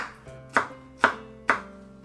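Knife chopping bamboo shoots for Taiwanese hot and sour soup on a board, three evenly spaced sharp thunks, close and clear with no talking.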